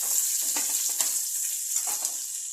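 Crushed garlic cloves frying in oil in a pan while being mixed, a steady bright sizzle with a few soft stirring scrapes, close and alone.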